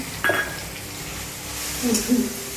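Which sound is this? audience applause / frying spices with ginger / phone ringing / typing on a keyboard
frying spices with ginger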